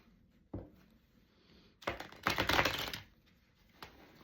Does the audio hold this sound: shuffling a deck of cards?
yes